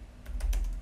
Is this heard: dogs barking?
no